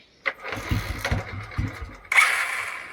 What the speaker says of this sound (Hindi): अभी यहाँ से मैं किक मारूंगा।